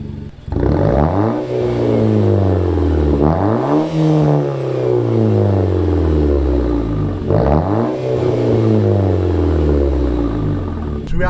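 A Nissan Juke Nismo RS accelerating along a road, its engine rising through the revs in repeated sweeping pulls with brief dips at each gear change, loud and steady throughout with no talking.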